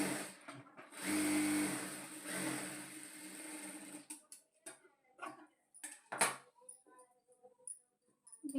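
A sewing machine runs a straight stitch joining a blouse waistband, a quiet whirring burst for a few seconds followed by softer scattered ticks and clicks of handling.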